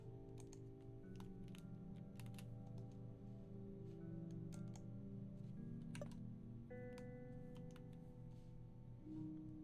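Someone plays a game on a computer keyboard: scattered, faint key clicks and taps, irregular and close, over a steady musical game background, with no talking.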